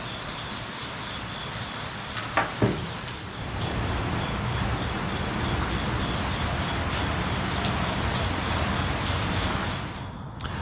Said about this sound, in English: the rain started about 10 minutes after that